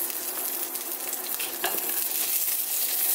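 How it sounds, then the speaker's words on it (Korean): Vegetables stir-fried over high heat for Korean spicy gochujang pork sizzle and crackle continuously, with a few scraping stirs and light clinks from a utensil against the pan, and no voices. "야채 볶을 때는 좀센 불에 해주세요. 센 불에 빨리 볶는 게 좋습니다."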